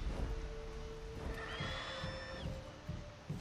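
A horse neighs in The Witcher 3, a clear rising whinny over ambient game sound and a faint rhythmic thudding underneath.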